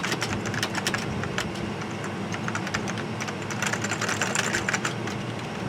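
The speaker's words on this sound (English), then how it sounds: "Keyboard works too." Keys clatter on a Commodore Amiga 3000 keyboard during a restoration: a quick, uneven run of crisp clicks and taps, close by, over a steady machine hum and fan noise, with no talking.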